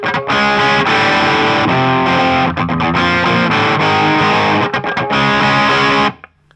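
Heavily distorted electric guitar plays a riff, loud dense strummed chords with brief choppy muted gaps, ringing out and cutting off at the end.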